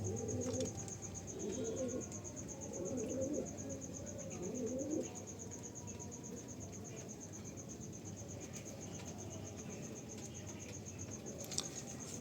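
A male Shira pigeon gives four rolling, close coos in quick succession, then falls quiet while a steady high insect chirr, like crickets, continues underneath.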